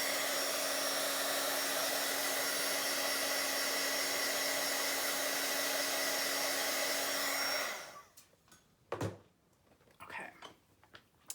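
A handheld dryer blows loudly and steadily over a freshly stamped journal page for most of the time, then cuts off, leaving quiet handling clicks and rustles.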